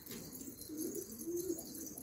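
Pigeons coo softly in a low, rolling murmur of two short phrases, faint and unaccompanied by talk.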